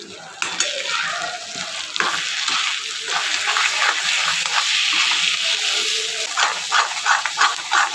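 Masala of turmeric, coriander powder and goda masala frying in a pan for a fish dish, a close sizzling hiss with repeated scraping strokes of a spoon stirring and mixing it.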